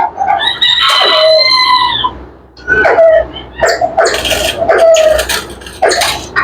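Chickens on a small hobby poultry farm, including Malaysian birds, cluck and squawk loudly and close by, with several overlapping calls and crowing-like cries in bursts and no talking.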